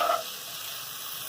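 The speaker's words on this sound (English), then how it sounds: "So we got our onion started here in the pan in my beautiful cast iron" Onions sizzle in a cast iron pan, a brief, even hiss of frying with a small burst at the very start.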